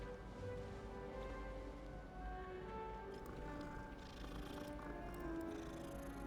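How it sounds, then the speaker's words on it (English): A cat in the video game Hogwarts Legacy purrs softly amid a steady layer of ambient game music and environmental sound, with no clear meows standing out. "I see kitty cat."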